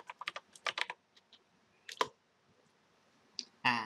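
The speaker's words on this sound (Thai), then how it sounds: "ให้กดลูกศรที่คีย์บอร์ดนะลูกศรขึ้นลงนะครับ" Arrow keys tapped on a computer keyboard: a quick run of crisp clicks, a pause, a sharp single press, then a few more taps, close and clear with no talking.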